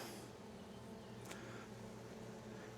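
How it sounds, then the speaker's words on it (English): Low, steady hum of bees buzzing inside an open hive during a June inspection, faint and continuous throughout with a brief higher whine near the middle. "So I can hear the bees buzzing"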